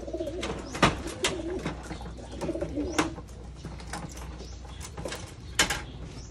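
Racing pigeons bred from Japanese bloodlines coo close by in soft repeated rolling calls, with sharp clicks and flutters scattered among them and no one talking.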